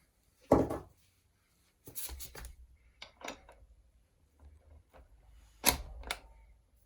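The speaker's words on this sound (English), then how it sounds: "And then take the ratchet." A ratchet tightens a bolt on a Cannondale SuperX bicycle during a one-by drivetrain conversion, producing a handful of separate, close metallic clicking bursts with short silences between them.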